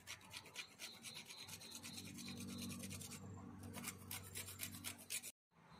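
Nutmeg rubbed against a small grater for chicken reshmi kabab: quick, rhythmic rasping strokes, close and fairly soft, continuing for several seconds before a brief pause and a final few scrapes.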